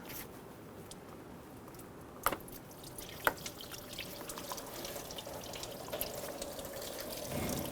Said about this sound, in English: Tilt the hose back a little bit and let some of that coolant run out.